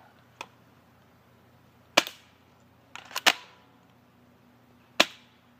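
Airsoft gun fired at targets in a backyard shooting session: sharp, snappy pops spaced out over several seconds, a faint one first, then single shots and a quick double, each with a short ringing tail, no talking.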